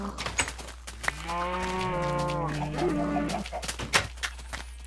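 Video game cows give a drawn-out, wavering moo in the middle of the stretch, framed by clicks and faint farmyard game noises.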